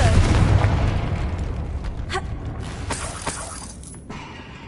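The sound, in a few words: Confringo spell explosion in Hogwarts video game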